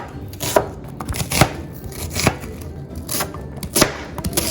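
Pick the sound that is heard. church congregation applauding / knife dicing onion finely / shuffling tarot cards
knife dicing onion finely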